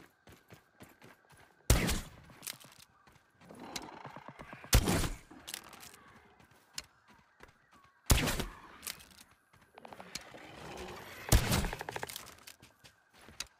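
Small bombs dropped by a creature in the survival video game Grounded go off as four sharp, loud blasts spaced a few seconds apart, with quieter game rustle and clatter filling the gaps.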